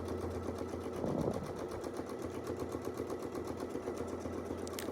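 A sewing machine stitches a decorative design from a centered needle position, a close, steady rapid clatter running evenly throughout without talk.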